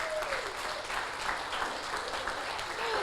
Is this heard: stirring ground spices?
no